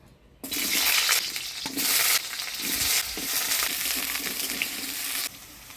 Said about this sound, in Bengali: আলু পটল ভাজি নেব দিয়ে দিব আলু